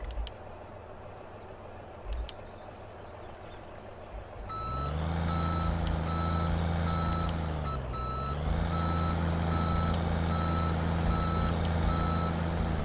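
Truck reversing beeps in the Farming Simulator 17 video game, a steady run of evenly spaced electronic beeps over a loud idling diesel engine that dips briefly and recovers, with no talking.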